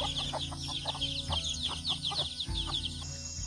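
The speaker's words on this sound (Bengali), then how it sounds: "এই যে পাহাড়ি মুরগি" A hill chicken clucks close by on a forest trail, giving a string of short, rhythmic clucks over faint background birdsong and a low rustle.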